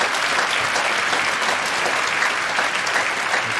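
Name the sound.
congregation applause for the youth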